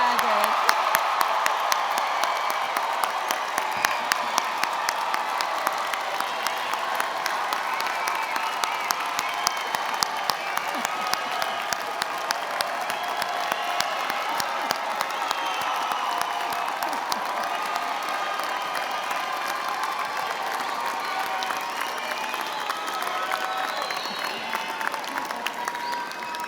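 Sustained crowd applause for graduates at Drexel's 2019 College of Arts and Sciences commencement ceremony, a steady roar of clapping in a large hall with occasional whoops and cheers running on without a break.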